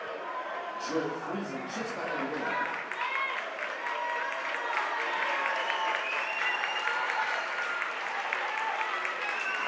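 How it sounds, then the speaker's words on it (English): Crowd clapping and cheering in a gym at a boys high school basketball game, sustained applause throughout, with shoe squeaks and a commentator's voice under it. "Big applause for Cash as he takes a seat."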